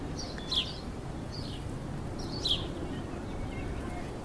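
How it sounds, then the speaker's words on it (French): Outdoors in nature, a few bright bird chirps ring out at intervals over a steady background rush of wind or distant noise, fairly faint and spaced about two seconds apart. "On écoute les oiseaux."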